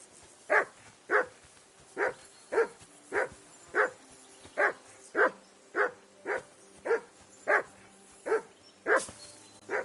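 A dog in the medieval role-playing game Kingdom Come: Deliverance II barks steadily, about fifteen sharp, evenly spaced woofs roughly every half second, loud and close, with no talk over them.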